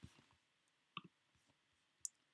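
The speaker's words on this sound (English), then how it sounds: "And we're going to type the first function." Sparse, faint clicks from a TI-Nspire CAS calculator keypad as keys are pressed, a few isolated taps spaced across a quiet moment.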